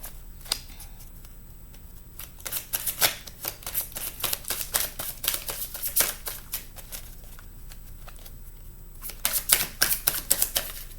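Tarot cards are shuffled repeatedly in a quiet room, giving long runs of crisp, close riffling and slapping card noise that come in bursts with short pauses between them.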